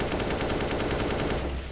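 An AK rifle fires rapid automatic bursts in a shooter video game, a dense, continuous stream of loud shots that tapers off near the end, with no voices.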